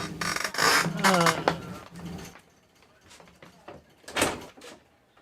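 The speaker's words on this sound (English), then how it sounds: "I'll close the hatch door." A hatch door is closed with scraping, clunking movement followed by a later bang, heard close amid handling noise and some voices in a radio show setting.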